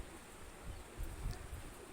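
A yellow-eyed breed pigeon, several years old, gives faint, low cooing in two or three soft murmurs over quiet background noise.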